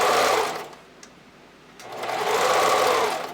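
A sewing machine stitches strap elastic on a bra in two close, loud bursts of steady whirring, with a short pause between them as the stitching backtacks.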